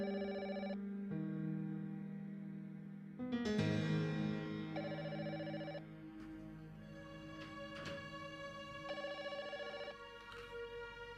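A phone rings repeatedly during an outgoing call to a relative's house, a steady melodic ringtone pattern with clear, fairly close tones in bursts, and no one speaking.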